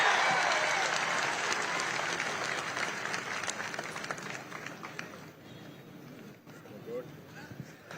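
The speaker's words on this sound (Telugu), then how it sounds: "గట్టిగా చప్పట్లు కొట్టి అభినందించండి" An audience at a public speech by Chief Minister Chandrababu breaks into loud sustained applause that gradually fades over several seconds, with crowd noise underneath.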